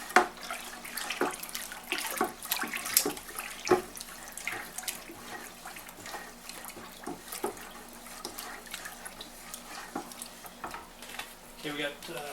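Pectic enzyme being stirred into a homemade wine cooler mixture: a spoon clinks and swirls liquid in repeated short scrapes and taps, with a watery sloshing texture throughout.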